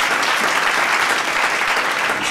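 A church congregation claps together in praise during a service, producing dense, sustained applause that holds at full volume from start to finish, with no clear voices above it.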